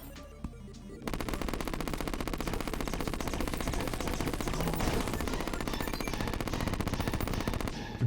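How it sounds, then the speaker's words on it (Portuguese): The SDMG (Space Dolphin Machine Gun) in the Terraria video game fires a dense, continuous stream of rapid shots, loud and steady for several seconds after a brief quiet opening. "o nome em inglês dessa arma aqui é SDMG, né? Space Dolphin Machine Gun, ou a metralhadora do golfinho espacial"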